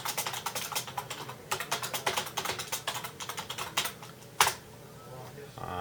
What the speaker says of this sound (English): so we will type